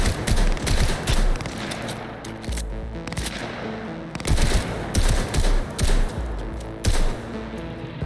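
Pistol gunfire in the video game Cyberpunk 2077, loud close shots fired in quick clusters with brief pauses between bursts, dominating the scene.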